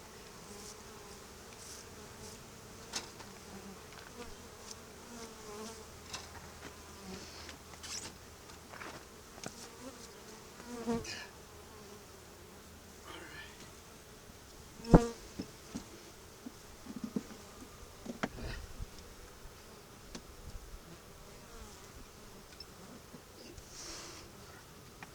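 Steady buzzing of honey bees hums throughout, close by, with occasional louder passes and light brushing sounds.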